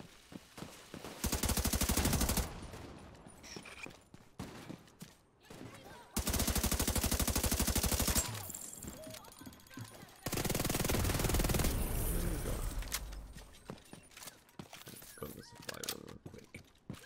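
Enemies fire at the player in The Division 2. The sustained automatic gunfire comes in three long, loud bursts, with quieter, scattered shots and game sounds in between.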